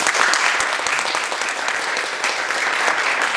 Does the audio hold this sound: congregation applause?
yes